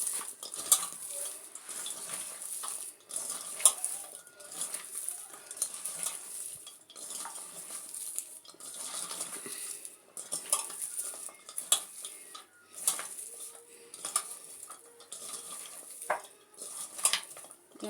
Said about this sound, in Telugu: ఇప్పుడు ఇంతవరకు ఇవి పీసుకొని బాగా కలుపుకుందాం అండి.